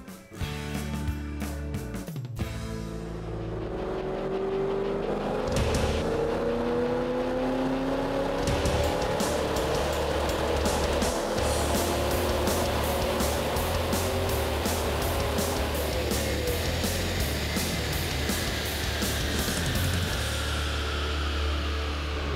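A Shelby 2010 GT500 Mustang roars on a dyno, its engine note climbing steadily from a brief start into a long, loud, sustained high-rev pull with no voices.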